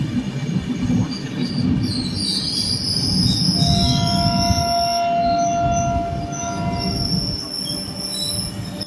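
A Kirandul passenger train with a Vistadome coach runs through hills on the Jagdalpur to Visakhapatnam line, a low rumble of wheels on track under long, high metallic squeals from the wheels.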